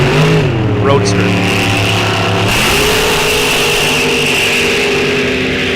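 Drag race cars, one a Corvette Roadster, launch off the line at a raceway with a loud, sustained roar and rising engine whine, while an announcer talks over it.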